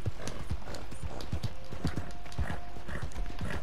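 Horse hooves clip-clop in a rapid galloping rhythm in the Red Dead Redemption 2 video game, close and steady, with a faint whinny and no talking.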